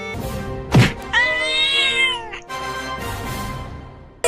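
A cat meows loudly several times in a row, with long drawn-out harmonic cries and a sharp thump at the start, heard close and without talk.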